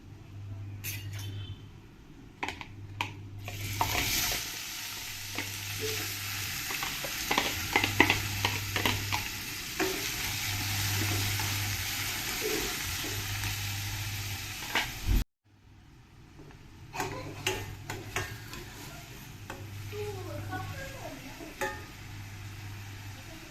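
Chopped onion fries with whole spices in a pan for dhaba-style egg curry, making a continuous sizzle broken by repeated spoon clinks and stirring scrapes. A brief silent break falls near the end before the sizzle resumes.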